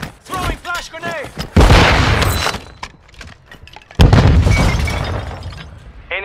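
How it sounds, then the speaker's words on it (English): A flash grenade bursts in a first-person shooter match with two loud, sharp, broadband blasts, each trailing into a long ringing wash. Game voices and radio chatter are heard in between. "Throwing flash grenade!"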